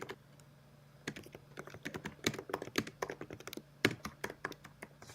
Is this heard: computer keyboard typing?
yes